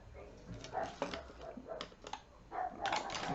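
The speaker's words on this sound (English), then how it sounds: "My dog having a bark up." A dog barks in short, separate bursts spread irregularly across the stretch, at moderate distance, over quiet indoor background with no speech.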